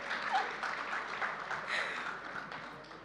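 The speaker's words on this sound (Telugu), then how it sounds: "చప్పట్లు." An audience applauds at a film pre-release event, a steady crowd clapping that holds for a few seconds and fades slightly toward the end.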